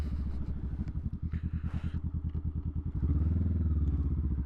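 A 2021 Honda Rebel 500 SE motorcycle engine while riding, a close, loud low thrum with rapid, even firing pulses that swells into a fuller, steadier drone as it accelerates near the end.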